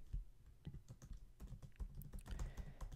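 Fingers type on a computer keyboard filling in sign-up details, a quick, close, irregular run of soft key clicks with no talk.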